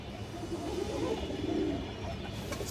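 Kaldom breed pigeons give a soft, low cooing near at hand against steady background noise, with no talk.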